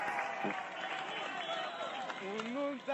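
A crowd massed at the foot of a Paris apartment building cheers and applauds a man's rescue of a small child, a continuous roar of voices and clapping heard under someone narrating.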